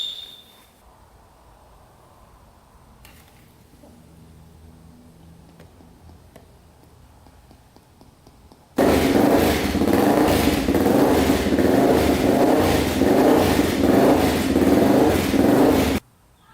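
A 416cc big-bore Honda 400EX ATV four-stroke engine idles quietly with a faint ticking, then abruptly roars to a loud, steady, throbbing run that holds for several seconds and cuts off.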